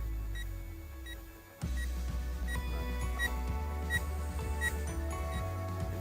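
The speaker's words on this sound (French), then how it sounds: "donc il a une alarme de batterie faible" A UDI U818A drone sounds its low battery alarm with evenly spaced high electronic beeps, repeating steadily over a low hum and some handling clicks, close by with no speech.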